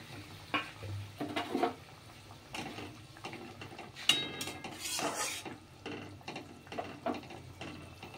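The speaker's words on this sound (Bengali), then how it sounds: "এবার আমি ভাজা মাছগুলো এর মধ্যে দিয়ে দেবো।" Fried bata fish slides into a simmering jhaal curry gravy in a pan, giving a soft sizzle, scattered metal clinks and scraping spoon stirs at close range with no speech.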